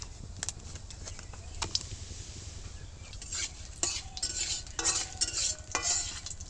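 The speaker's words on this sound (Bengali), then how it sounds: "ভাজছি একটু ফোড়নটা একটুখানি সুন্দর গন্ধ ওটা পর্যন্ত ভেজে নিতে হবে" Whole spices, bay leaves and torn dried red chillies fry in oil for a pickle tempering, a faint low sizzle broken by clinking spoon-on-pan stirs and light utensil clatter.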